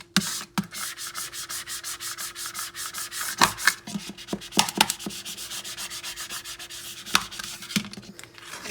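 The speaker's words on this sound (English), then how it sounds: "So I'm going to burnish this with my Cricut scraper." Cricut scraper burnishing adhesive vinyl for curb house numbers, a steady series of close, dry rubbing strokes with a few sharper scrapes, no voices.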